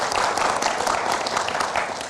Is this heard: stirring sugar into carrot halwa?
no